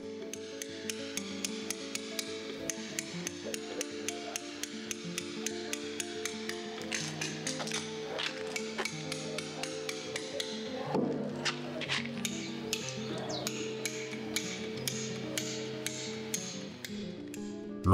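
A hammer drives a chisel into stone in a rapid, even series of sharp metallic taps. The striking is close and steady, with a brief pause and a few heavier knocks partway through.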